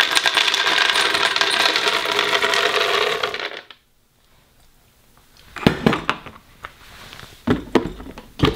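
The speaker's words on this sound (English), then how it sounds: "So the first, we're gonna go ahead and add the almonds." Almonds pour into a Vitamix or Blendtec blender jar with a loud, dense rattling clatter, then a pause followed by a few sharp, scattered clinks of stray nuts.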